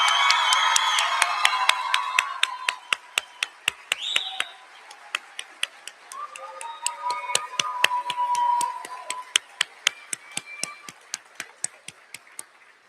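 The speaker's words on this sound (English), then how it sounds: "let's give our graduates a huge round of applause." An audience at a nursing school pinning ceremony claps and cheers for graduates, sparse sharp hand claps mixed with scattered whoops and shouts that fade after a few seconds, leaving a few isolated claps at the end.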